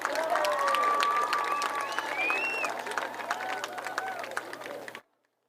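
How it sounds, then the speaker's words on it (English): Crowd applause at a high school homecoming ceremony honoring the royalty court, steady clapping with some cheering that carries for about five seconds and then stops abruptly. "Let's give our 2025 Homecoming Royalty Corps a big round of applause."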